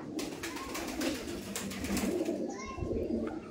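A pair of Rampuri pigeons, male and female, cooing softly at close range, low throaty murmurs over a faint background of other birds and light ambient noise.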